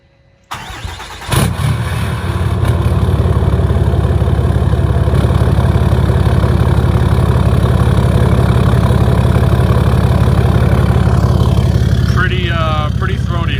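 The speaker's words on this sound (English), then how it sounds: "here's what the truck sounds like with the 5-inch DPF back" A 2020 Ram 2500 diesel pickup with a 5-inch DPF-back exhaust fires up, then settles into a loud, steady, throaty idle close by, with a brief voice near the end.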